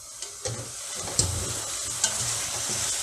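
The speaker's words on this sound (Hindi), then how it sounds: "अब इससे आपने 5 मिनट के लिए भूनना है अच्छी तरीके से दरमियानी आंच पर" Lamb jalfrezi with green chilies frying over medium heat in a pan, a continuous close sizzle broken by several stirring scrapes and taps, no talking.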